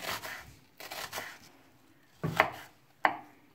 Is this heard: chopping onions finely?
yes